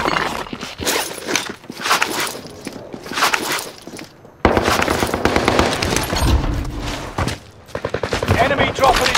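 Bursts of automatic gunfire in Call of Duty: Warzone, loud rapid volleys starting and stopping in uneven stretches, mixed with game noise and a voice speaking at times.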